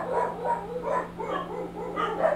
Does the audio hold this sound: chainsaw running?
no